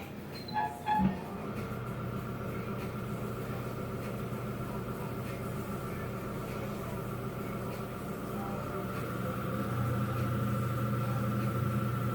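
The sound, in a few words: Shimpo RK2 pottery wheel running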